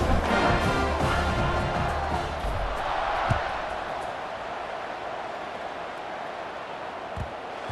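A stadium crowd in the college football video game College Football 26 keeps up a steady, dense roar through the whole stretch before kickoff, with a few brief swells and no clear voices on top.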